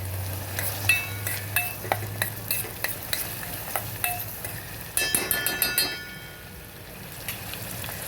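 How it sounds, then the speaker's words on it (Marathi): Finely chopped onions and green chillies frying in oil, a continuous sizzle with rhythmic spatula scrapes against the pan, then a quick run of metallic clinks partway through before the frying carries on alone. "यात 2 मोठ्या आकाराचे कांदे, 4 मिरच्या बारीक कट करून टाकल्या आणि या तेलामध्ये मी व्यवस्थित हे फ्राय करून घेणार आहे।"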